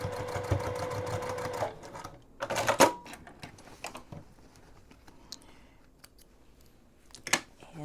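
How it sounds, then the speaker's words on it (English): Sewing machine running a basting stitch across outer and lining bag fabric, a fast steady mechanical whir for about two seconds, then scattered clicks and fabric handling nearby. "And then just do a basting stitch."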